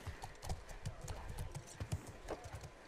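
A horse's hooves clip-clop at a steady walking pace on the ground in The Last of Us Part II, fairly faint, with a voice speaking over them.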